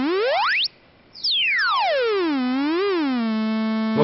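LittleBits synth oscillator module producing a loud, harmonically rich square wave tone that sweeps up, breaks off briefly, then glides down, wobbles and settles on a steady low pitch, heard alone.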